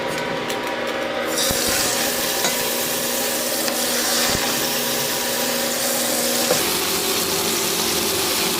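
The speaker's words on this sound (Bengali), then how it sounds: "তেল কিন্তু গরম হয়ে গেছে, ঝটপট করে মাছটা ফ্রাই করে ফেলি" Sea fish fries in hot oil in a pan on an induction cooker, a loud, continuous crackling sizzle close by with a few soft knocks, no voices.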